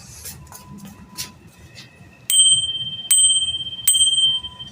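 A small bell is struck three times in a row, each ring a bright, sustained ding that fades slowly. The rings stand out loudly over a low, murmuring background.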